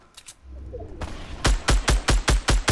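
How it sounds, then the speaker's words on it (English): Fortnite gunfire in a duo match: a rapid string of about seven loud, sharp shots in steady rhythm, preceded by quieter scattered shots and low rumble. "I'm literally shooting at nothing now"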